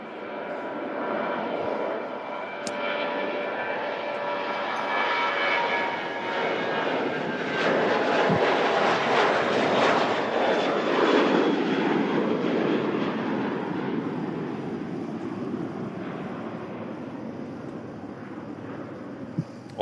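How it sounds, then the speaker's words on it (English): A Boeing 737-800 jet departs Manchester Airport's runway 23, its engine roar swelling from a distant rumble to a loud, broad peak and then slowly fading. "So this was going to be the first departure off 2-3."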